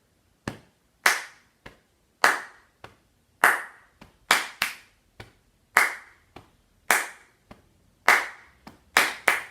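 Crisp hand claps ring out alone in a music lesson, sharp close strikes falling in a repeating rhythmic pattern with slight room echo after each one and silence between.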